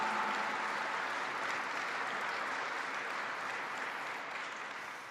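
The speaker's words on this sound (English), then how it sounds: "So give yourselves a round of applause." Sustained audience applause at a Vice President's remarks to 10th Mountain Division soldiers, a steady dense wash of clapping that holds level throughout and fades only slightly at the end.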